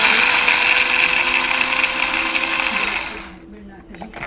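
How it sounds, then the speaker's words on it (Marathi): Mixer grinder finely grinding garlic, a loud close whirring motor roar for about three seconds, then it winds down and cuts off into a quiet rattle. "आपल्याला जेवढा बारीक पाहिजे आपल्याला लसूण तेवढा बारीक होतोय"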